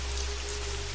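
Steady rain falls in a dense, even hiss with a low rumbling bed beneath it, constant and unbroken throughout, with no voices.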